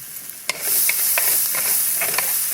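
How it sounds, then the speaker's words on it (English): Chopped garlic and onions sizzle steadily in a hot pan for fried rice, with a few soft scraping clicks as they are stirred; no one speaks. "Give that a little stir."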